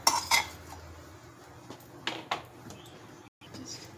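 A hot multigrain dosa is served onto a plate in a home kitchen: a few sharp metallic clinks and scrapes of a utensil against cookware, followed by softer intermittent taps and handling noises, close and fairly quiet.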